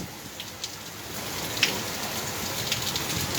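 Steady heavy rain pouring down, a dense continuous hiss with occasional louder drops, no voices.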